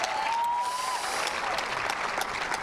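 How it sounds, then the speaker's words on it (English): Crowd applause at a men's pro doubles gold medal match of the national pickleball championships, held at a tennis garden venue; steady, dense clapping fills the whole stretch with a faint whistle-like tone early on. "Let's give these guys a round of applause."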